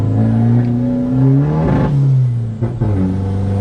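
A Thai pickup truck with a 2500 engine accelerates hard in third gear on a stock gearbox, its loud, close engine note climbing steadily in pitch, dipping briefly at a shift-like break, then pulling up again.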